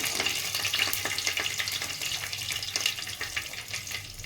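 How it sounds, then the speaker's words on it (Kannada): Curry leaves and two or three dried red chillies sizzle in hot oil in a pan, a soft continuous crackle with small pops, fairly quiet and close with no talking. "ಇದಿಷ್ಟು ಚೆನ್ನಾಗಿ ಫ್ರೈ ಆಗಲಿ"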